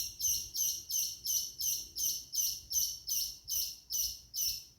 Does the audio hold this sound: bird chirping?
yes